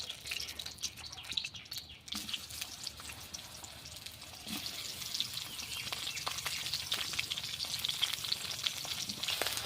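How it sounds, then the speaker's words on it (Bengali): Eggplant fries in mustard oil in a pan, a steady, moderately loud sizzle that builds slightly over time, with faint bird calls in the background. "এই তেলে এখন আমি বেগুন ভেজে নেব।"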